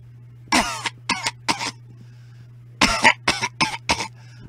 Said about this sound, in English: let me hear your best coughing and hacking